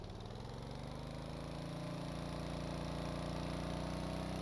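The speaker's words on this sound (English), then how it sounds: "you'll hear the engine revs up, it automatically clutches" A game vehicle engine in Stormworks with automatic clutch, droning steadily and rising slowly in pitch as it revs under load, continuous and close.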